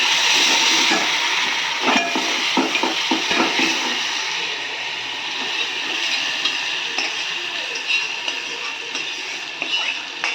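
Hot oil tempering with turmeric sizzles and hisses loudly as it is poured into brinjal oro, a steady bright crackle running throughout with a few sharp pops near the start.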